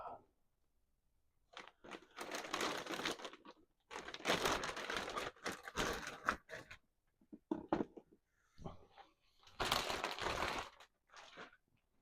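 Plastic packaging is crinkled and pulled off a Spin Master Kaiju Slime Battle toy, giving close, loud bursts of crackling and rustling separated by short quiet gaps.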